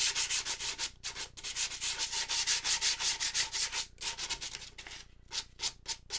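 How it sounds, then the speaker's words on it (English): Sandpaper rubs back and forth over a painted sewing machine drawer, making brisk, rhythmic scratchy strokes up close, with a few brief pauses between bursts. "So we're just going to sand over the entire thing."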